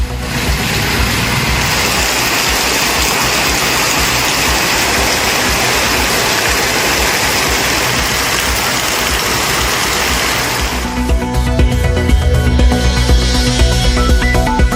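Heavy overnight rain in Nagapattinam, India, a steady loud broadband downpour for about eleven seconds, then giving way to a different lower rumbling with tonal hum, like traffic or an engine, near the end.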